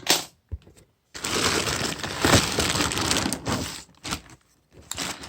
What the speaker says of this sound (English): Get the little knife. Cut this open.